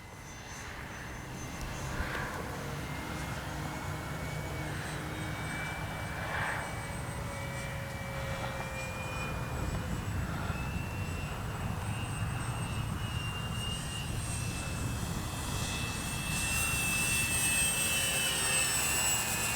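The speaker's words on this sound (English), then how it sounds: "That's a good looking plane right there." An X-Fly Spitfire radio-controlled model warbird flies overhead with landing gear and flaps. Its electric motor drones with a steady rising and falling whine that swells louder toward the end, and no one speaks.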